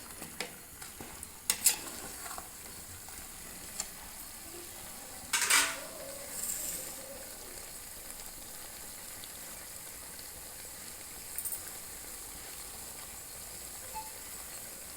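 Ground masala frying in tempering oil in a pan, a faint steady sizzle with a few brief scraping stirs, no talking.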